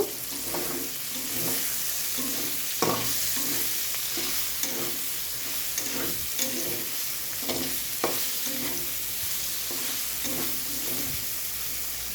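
Bitter gourd, pumpkin and onion fry together over low heat, a constant close sizzle broken by regular scraping stirs roughly every second, with no voices.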